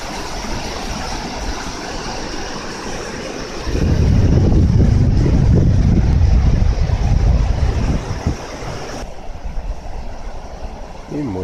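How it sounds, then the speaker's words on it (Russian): Water rushes loudly over small rapids on the Rezekne river in winter, a steady broadband roar that swells in the middle and eases toward the end. "Водичка шумит."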